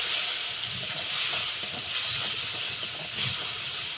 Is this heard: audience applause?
no